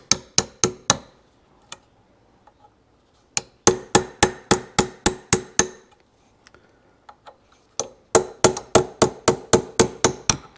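A hammer strikes a chisel in quick, sharp, evenly spaced bursts to cut out a fork seal on a 1971 Kawasaki F7 fork, with brief pauses between runs of blows and no talking.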